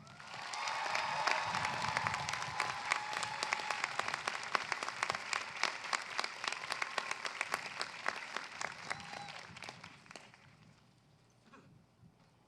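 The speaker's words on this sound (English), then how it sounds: "Please give our amazing faculty a round of" A large audience at a university undergraduate commencement applauds the faculty with dense, sustained clapping that thins into scattered individual claps and dies away near the end.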